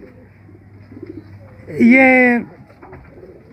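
A golden pigeon gives a single loud, drawn-out coo, rising close and clear over a quiet background, with someone speaking softly before it.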